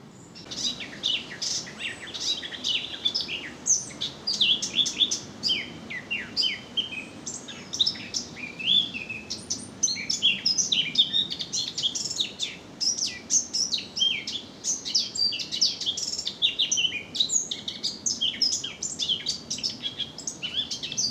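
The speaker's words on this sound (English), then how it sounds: "Plenty of bird life within." Birds chirp and sing continuously on a countryside walk between Wakes Colne and Bures, many overlapping calls and trills sounding close and lively over a soft, steady outdoor background.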